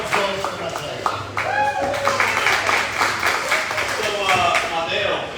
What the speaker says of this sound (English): Another massive round of applause for Matteo.